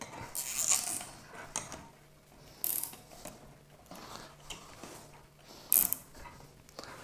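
A clamp on a rooftop antenna mount being tightened outdoors, with a few sharp metallic ratcheting clicks spaced out over faint background noise.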